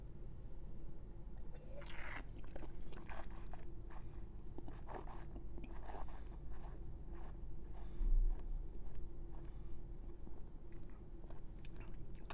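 Quiet close mouth sounds of someone tasting Church Road Syrah 2018 red wine: soft slurps, sips and chewing-like smacks over a low steady hum, with no talk.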